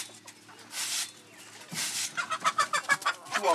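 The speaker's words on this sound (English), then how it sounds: "See, this is the mother of all the chicken with the short legs." Short-legged chickens cluck on a village farm in Tanzania's Tarangire area, close and fairly loud, with a rapid run of clucks building toward the end and no talk.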